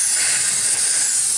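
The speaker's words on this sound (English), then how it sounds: "Definitely gonna spray this out because there's a lot of gunk right here." Aerosol cleaner sprays in one steady, loud hiss into the engine bay of a 2002 Honda Odyssey, aimed at built-up gunk, with no talking.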